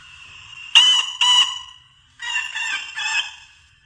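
A Loraffe rodent repeller blasts loud deterrent sounds through its speaker, two sharp bursts of crowing-like animal calls followed by a longer stretch of warbling bird and fowl noises, loud and close.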